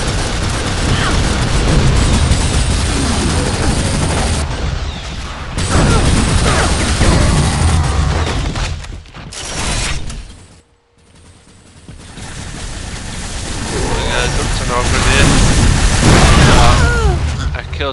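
Loud explosions and crashing bursts in an Unreal Engine video game, a dense, continuous barrage of booms and debris with a brief dip before the roar builds again.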